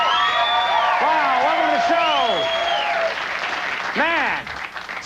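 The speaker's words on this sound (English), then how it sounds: "sounds like a sports crowd tonight, doesn't it?" A television studio audience applauds and cheers like a sports crowd, loud and sustained, with whoops and whistles rising over the clapping while a host speaks on top.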